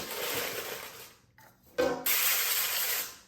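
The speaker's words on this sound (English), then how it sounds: "And some nonstick spray." Nonstick cooking spray hisses from an aerosol can onto a sheet of foil for an air fryer, two close bursts of steady spray separated by a short pause, with a faint clink in between.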